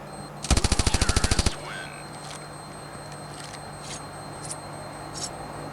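Rapid automatic gunfire from the mobile shooter Standoff 2, a loud burst of about a dozen evenly spaced shots lasting roughly a second, followed by faint scattered clicks and game noise.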